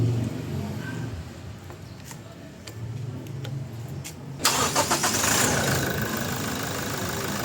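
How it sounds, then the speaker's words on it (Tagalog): A Toyota Innova engine cranks and catches, then settles into a steady idle close by in a workshop after brake and steering work; faint ticking precedes the start. "pa-start ko na itong makina"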